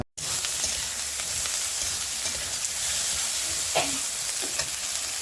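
Potatoes and eggplant fry in a pan for a Bengali-style charchari, giving a steady, close sizzle and hiss that runs without a break, with a few faint stirring clicks and no voices.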